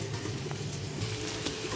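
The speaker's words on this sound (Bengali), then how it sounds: "আর এটা হচ্ছে আলু পটলের তরকারি কষা হচ্ছে।" Potato and pointed gourd curry sautéing in a pan, a soft steady sizzle with faint stirring, close and unbroken for a brief moment.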